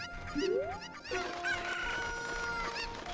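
Cucco chickens in a Zelda game cluck and squawk in a short burst of bright, bird-like calls, close and clear over a faint musical background.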